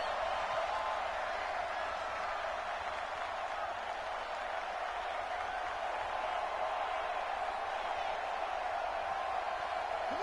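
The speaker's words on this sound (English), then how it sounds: "The crowd here in the Dome making things difficult." Steady, dense crowd roar fills a domed football stadium in the Madden 20 video game, a constant wash of noise with no breaks.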